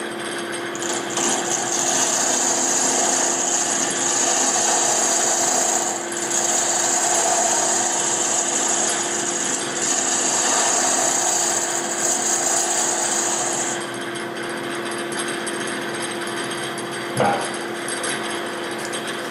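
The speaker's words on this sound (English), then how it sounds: "I am making rooks on the lathe" A wood lathe spins a chess rook blank with a loud, steady motor hum and a bright whine of the cutting tool. About two thirds through it drops to a quieter hum, broken by one knock near the end.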